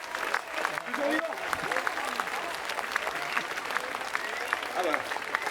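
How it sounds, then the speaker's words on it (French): A circus audience applauds for a performer named Maëlle, steady clapping filling the space while voices talk over it. "Vous pouvez remercier, applaudir chaleureusement Maëlle"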